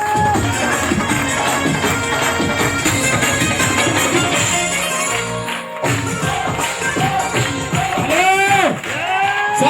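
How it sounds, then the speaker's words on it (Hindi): A standing audience at a motivational network-marketing seminar in India claps and cheers loudly, a dense crowd roar that continues throughout with whoops and a voice rising over the noise toward the end. "एक बार खड़े हो गए उनके लिए जबरदस्त ताली मारे साहब"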